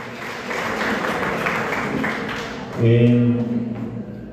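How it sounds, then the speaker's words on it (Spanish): Audience applause at a teachers' discussion forum, a steady wash of clapping from a crowd that swells louder near the end, with voices mixed in beneath it. "Aplausos ahí."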